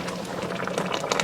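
A Northeastern-style iron pot stew bubbles steadily, with potatoes and sweet potato starch noodles added, giving a dense, continuous, close simmering burble with small pops throughout.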